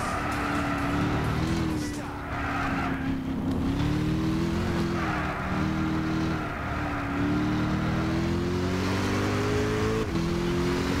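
A Corvette driven in Gran Turismo 6 hums with a steady engine note that rises and dips through gear changes and corners, loud and continuous beneath occasional talking.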